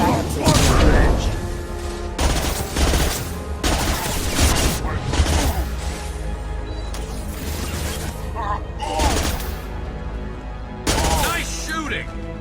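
Combat gunfire in Mass Effect 2 on PS3, with repeated dense bursts of shots and impacts layered over a steady game soundscape and music, plus occasional voices.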